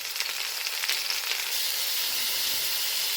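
Small pieces of butternut squash sizzle and fry steadily in a hot pan as they brown, a loud, continuous crackling hiss with a few sharper spits early on.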